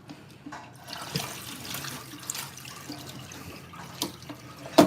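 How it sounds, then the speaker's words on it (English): Goat meat is rinsed under a running kitchen tap: a steady low stream with splashing and sloshing, and a louder slap of water and meat near the end. "I'm washing the goat meat we'll be using for the vegetable"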